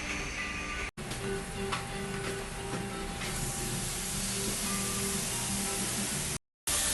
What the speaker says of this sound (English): this is the fish frying down